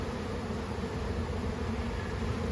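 Honeybees buzzing around an open hive during a hands-on beekeeping class, a steady, dense hum that holds without a break throughout.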